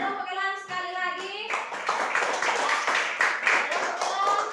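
A classroom of students claps for a student group, a burst of mixed hand clapping that follows a teacher's brief spoken line.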